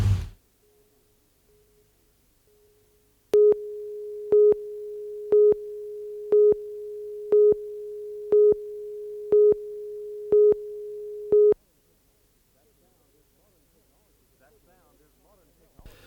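A distress beacon sends a steady electronic tone that pulses in a regular rhythm, about nine beats roughly one second apart, clear and alone against near silence.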